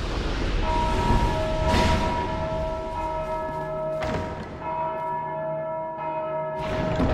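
Church-style bell tolling in Dark Souls 2, with several resonant strikes and long ringing tones layered over a dense, rumbling ambient bed, loud and close with no voices.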